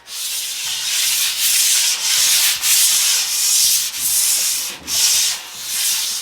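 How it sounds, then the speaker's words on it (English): A sanding pad rubbed back and forth over a painted furniture finish in repeated strokes, a close, loud scratchy hiss pulsing in an even rhythm. "you can literally just take your sanding pad"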